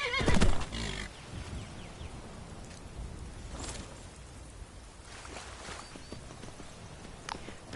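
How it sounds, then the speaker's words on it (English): Horse in the video game Skyrim giving one loud whinny at the start, followed by soft hoof clip-clops and faint ambient noise that fade under a steady background. "First, I've got a horse."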